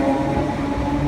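A British Rail Class 319 electric train rolls past at a station in Eccles, a steady rumbling hum with a faint whine, fairly near and continuous, with no voices.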